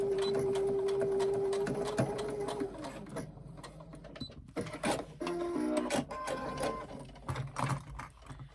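A sewing machine stitches locking stitches across the teeth of a zipper on a handbag, giving a steady, close mechanical whir that breaks into shorter runs, clicks and knocks as the stitching stops and starts.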